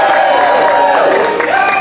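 A fired-up crowd roars and whoops, loud and continuous, with overlapping voices and cheers filling the space without a break.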